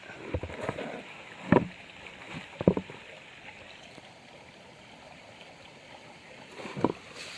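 Water sloshes and splashes in a gold pan during outdoor panning, with a few distinct swishing bursts over a steady background of flowing stream water.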